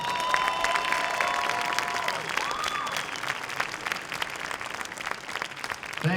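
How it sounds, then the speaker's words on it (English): A concert audience gives the band a loud round of applause, dense sustained clapping with a few cheers, a lingering instrument tone fading early on, and the crowd noise tapering at the end. "Please give them a big round of applause once again."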